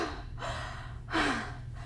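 A storyteller's voice imitates a small mouse panting after a frantic escape from a cat, two quick breathy gasps, the second louder and longer, close and without words.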